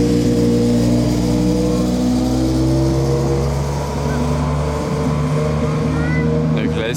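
A car fitted with an extra exhaust idles with a loud, deep, rumbling drone and an odd engine note on a Monaco street at night.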